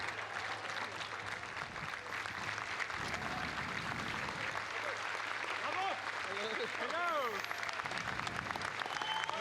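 Applause from a red carpet crowd at the Cannes 2024 premiere of Furiosa, a dense, steady wash of clapping and cheering that runs throughout, with voices mixed in and occasional whistles near the end.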